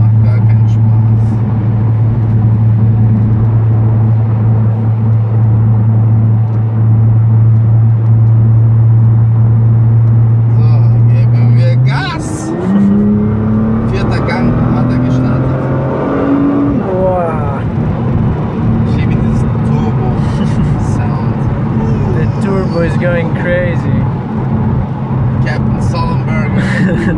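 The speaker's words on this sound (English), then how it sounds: "Fucking cars. So many." Dense car traffic passes close by: a steady engine drone and rumble, then a shift as vehicles sweep past with rising whooshes, loud and continuous throughout.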